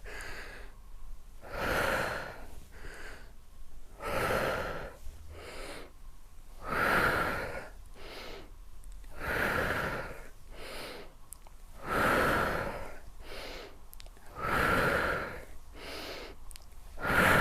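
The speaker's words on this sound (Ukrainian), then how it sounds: "Вдих, видих." Deep, rhythmic breaths during a stretching warm-up, with about six slow inhale-exhale cycles rising and falling at a steady pace, close and clear with no talking.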